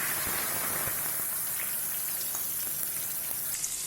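Spice paste hits hot oil tempered with cumin seeds, bay leaves and cinnamon, giving off a dense, even crackling sizzle like heavy rain, close and steady throughout with no talking.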